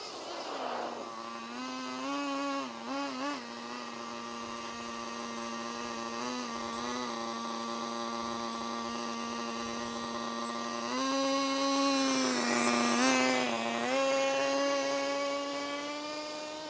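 The small nitro engine of an RC truck runs with a steady, buzzing, tonal drone close by, briefly wavering, then revving up louder near the end before settling.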